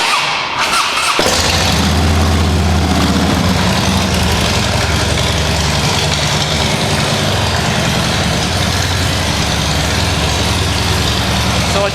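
A 2006 Harley-Davidson Dyna Wide Glide with aftermarket slip-on exhausts starts up and settles into a loud, loping, uneven idle. The close, throaty pulse runs steadily, with no pause and no speech over it.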